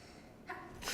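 A single quick sneeze, fairly faint, bursts out from someone at a storytelling event, a short sharp puff of breath in an otherwise quiet room.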